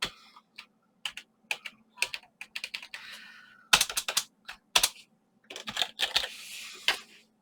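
Typing on a computer keyboard comes in quick bursts of crisp, close key clicks separated by short pauses, with a few heavier presses toward the end and no talking.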